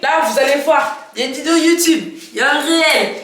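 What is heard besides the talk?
No everyday noise stands out behind the speech.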